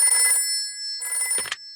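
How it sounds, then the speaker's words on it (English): A cartoon telephone rings in two bursts of bright, bell-like trilling with a short silent gap between them, loud and clear with nobody talking over it. "Let's phone Grandpa."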